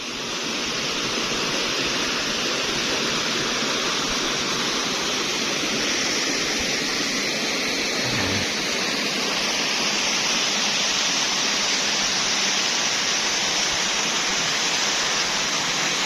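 Loud, continuous rushing water at Mambukal mountain resort, Negros Occidental, like a nearby cascade, roaring steadily without pause and with no voices.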